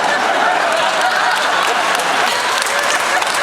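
A Comic Con panel audience claps in a loud, even roar of many hands, unbroken from start to finish.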